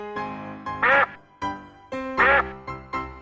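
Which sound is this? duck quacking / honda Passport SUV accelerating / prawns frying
duck quacking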